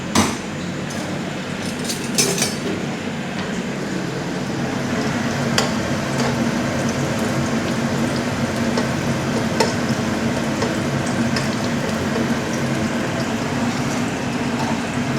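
Tilapia frying in a pan with ginger and onion, a continuous loud sizzle broken by occasional clinks of utensils, with no voices.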